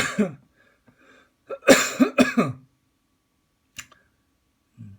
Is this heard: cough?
yes